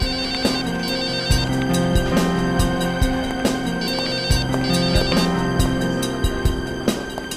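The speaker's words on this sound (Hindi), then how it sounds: "आपका फोन बज रहा है।" A mobile phone ringing in an office cabin, a loud repeating electronic ringtone melody with steady rhythmic pulses throughout, no voices.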